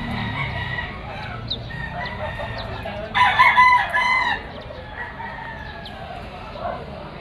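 Roosters and hens at a busy Malabon market: a loud nearby rooster crows once midway, with scattered clucks and crowd murmur throughout.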